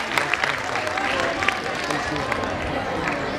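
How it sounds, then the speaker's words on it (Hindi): Audience applause for a student at a school annual function, a dense continuous clapping from a crowd lasting a few seconds, with voices mixed in. "जोरदार तालियां दीजिए इस बच्चे के लिए"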